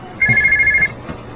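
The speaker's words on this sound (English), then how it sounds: "John, can you get the phone?" A single electronic telephone ring, a steady beeping tone lasting under a second, heard clearly with faint room background and no talking during the ring.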